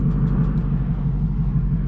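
Whipple-supercharged S650 Ford Mustang GT with a 10-speed automatic, making about 760 horsepower, idling loud and close with a deep, steady rumble on its first drive out of the shop.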